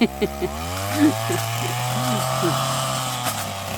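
A steady, droning motor saw cutting wood in an orchard runs throughout, close and loud, with scattered voices talking over the engine noise.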